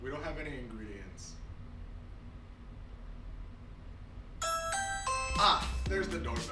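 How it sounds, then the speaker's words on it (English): A doorbell chimes in a comedic cooking show, a short bright ding-dong ringing out after a quiet stretch, with a voice speaking just before. "Ah, there's the doorbell."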